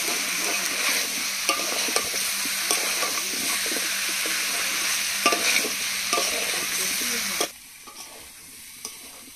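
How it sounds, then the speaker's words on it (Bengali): Duck meat curry with papaya stir-fried over a wood-fired clay stove, a continuous close sizzle with regular spatula scrapes and knocks against the pot, then the sizzling suddenly drops away near the end; no speech. "পেঁপে দিয়ে আর 2-3 মিনিট কষিয়ে এবার জল দিয়ে দেবো"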